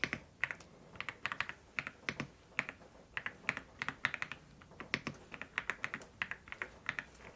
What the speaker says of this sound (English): then I type it into our system